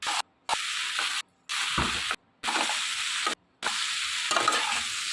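Pasta with mixed vegetables stirred in a hot pan, a steady close scraping and sizzling texture broken by several short silent gaps, with no voices.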